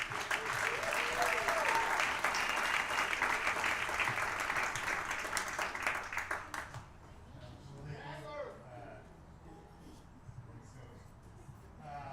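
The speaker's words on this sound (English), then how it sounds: "Let's give a warm round of applause for Jake Sanderson." A crowd at an American Legion baseball hall of fame ceremony gives loud, sustained applause for about six seconds. It then fades quickly, and a voice starts talking.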